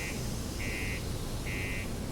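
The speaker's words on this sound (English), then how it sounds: "Headset's starting to beep at me." A headset gives out three short, evenly spaced electronic beeps, thin and fairly faint over a low background hum.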